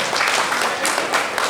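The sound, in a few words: audience applause for Sardar ji at a workshop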